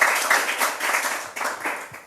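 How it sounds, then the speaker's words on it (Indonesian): A congregation at a Sunday worship service claps together, a lively, fairly close burst of many hands that rises and falls in waves, with no voice on top. "Tepuk tangan buat Tuhan Yesus."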